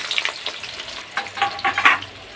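Onions fry in a pan for a homemade chicken biryani masala, crackling and sizzling close up with bursts of stirring and scraping that rise and fall in quick uneven pulses.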